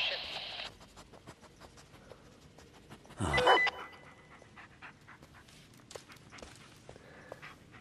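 The dog Bullet pants softly and rhythmically in the horror game Blair Witch, close but faint, with scratchy rustles and a short loud burst midway while someone talks intermittently.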